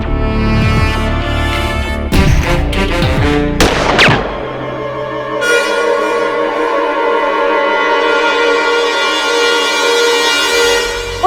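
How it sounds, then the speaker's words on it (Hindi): Several loud gunshots in quick succession from a handgun in a courtroom drama scene, layered over dramatic background music that swells and continues after the firing stops. "और गोली चलाओ"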